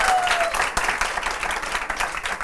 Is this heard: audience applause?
yes